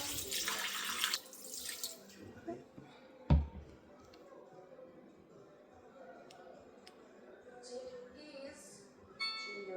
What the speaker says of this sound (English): we're going to pour in our warm water